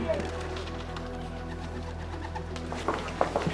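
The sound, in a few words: pigeons cooing on a rooftop in Beijing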